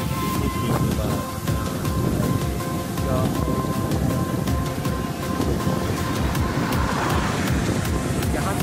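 Heavy rain pours down in China in a continuous dense hiss, with a deep rumble underneath and no pauses.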